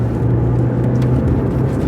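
A Rover 75 Turbo accelerating, its engine a steady close drone with a low, rising hum for a couple of seconds, heard without talk.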